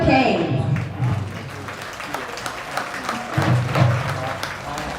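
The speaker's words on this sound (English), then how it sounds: "How about another round of applause for the Newcastle Red Hurricane Marching Band." Audience applauding for the Newcastle Red Hurricane Marching Band, a steady wash of clapping filling the whole stretch, swelling again toward the end, with tonal band or crowd sound murmuring underneath.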